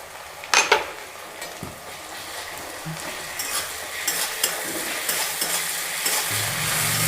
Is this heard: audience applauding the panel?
no